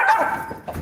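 A small dog gives quick, high-pitched excited yips and barks close by, eager to get out the front door, in one short burst.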